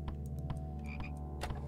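A video game frog croaks in short repeated bursts, close and clear over a steady hum of game music, with no voices.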